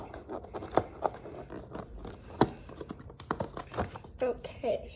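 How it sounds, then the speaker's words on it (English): Scissors snip and crunch against the stiff plastic packaging of a new toy in a few uneven bursts, close by, with rustling and some talking in between. "I just can't open them with scissors."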